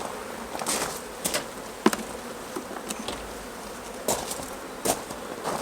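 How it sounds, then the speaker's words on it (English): Honey bees hum steadily around an open beginner beehive during an inspection, a soft continuous buzz at moderate distance with occasional louder passes of single bees near the hive super. "we've got bees now on the top of the queen excluder"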